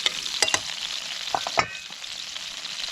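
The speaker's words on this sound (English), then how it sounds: "Just toss it in. It's almost like a Mediterranean stir fry." Calamari stir-fries in olive oil in a pan with a continuous sizzle, punctuated by a few sharp clatters as the pieces are tossed and scraped, with no voices.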